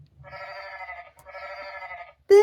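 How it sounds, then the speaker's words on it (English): A recorded sheep bleat from a children's farm-animal sound book: two wavering bleats, close and clear, with a short gap between, then a brief louder sound cutting in at the end. "The sheep go baa."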